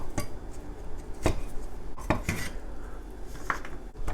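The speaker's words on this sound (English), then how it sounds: "I'll give it like a rough chop." Garlic being roughly chopped with a knife on a board, a few sharp, irregular knocks spaced over several seconds against faint kitchen background, no voices.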